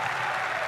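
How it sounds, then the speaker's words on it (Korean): Applause for tennis players at Roland Garros, a dense continuous clapping from a large stadium crowd, loud and unbroken through the brief moment. "패배는 했지만 뜨거운 박수 속에 또 격려를 받으면서 물러나고 있는 로렌초 무세티입니다"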